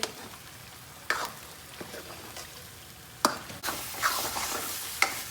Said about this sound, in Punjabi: ਹੁਣ ਮਸਾਲੇ ਨੂੰ ਐ ਚੰਗੀ ਤਰ੍ਹਾਂ ਭੁੰਨ ਲੂੰਗੇ